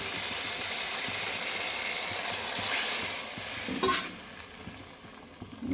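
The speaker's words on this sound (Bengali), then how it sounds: "এখন আমি একটু জল দেবো।" Water poured into a hot pan of okra, tomato and fish curry, a steady close sizzle and hiss with stirring scrapes and a brief sharper splash and crackle partway through.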